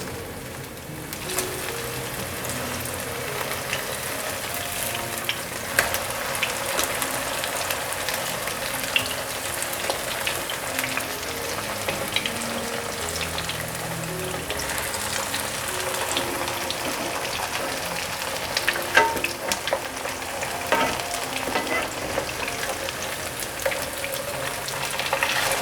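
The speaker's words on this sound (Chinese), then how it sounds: "继续煎成金黄色，煎成金黄色了，" Toast-and-radish vegan patties fry in hot oil in a pan until golden, with a steady, dense sizzle and scattered pops and crackles running unbroken throughout.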